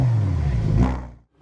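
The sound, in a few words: Lamborghini Huracan Performante V10 engine revving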